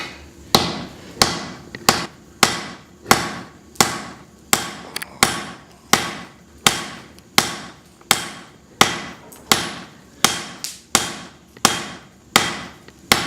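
A blacksmith hammers a hot, welded steel billet to spread the metal while forging a hatchet, striking hard and close in a steady rhythm, roughly one or two ringing blows per second.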